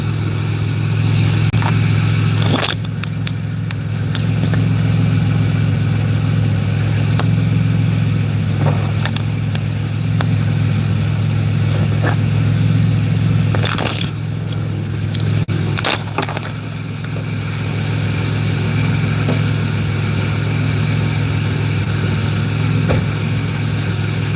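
A Pontiac Grand Prix GTP engine idles steadily throughout, a loud continuous low rumble with a few brief clunks and rattles over it.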